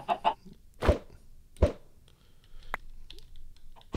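A few short, clipped clucks of chickens in Minecraft with clicky, synthetic bursts, sparse and separated by quiet gaps.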